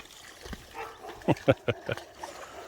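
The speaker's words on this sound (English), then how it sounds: "The neighbor's dog is making some noise." A neighbor's dog barks several times in quick succession, short sharp yaps at moderate distance, with quieter background sounds between.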